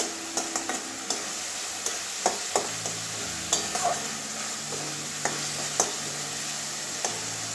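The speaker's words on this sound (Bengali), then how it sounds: "অল্প জল দিয়ে মশলাটা কপাচ্ছি" Spice paste with a little water frying in a pan for a Malabar spinach and pumpkin curry with papaya bori: a continuous close sizzle, broken by regular scrapes and taps of stirring.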